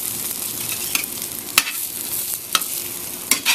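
French toast frying in a skillet, a loud, steady close sizzle with a few sharp clicks and scrapes of a spatula against the pan.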